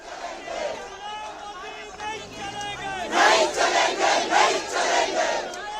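A large protest march crowd in the streets of Shimla: a murmuring throng that swells into loud, rhythmic chanted slogans, shouted in repeated bursts by many voices together.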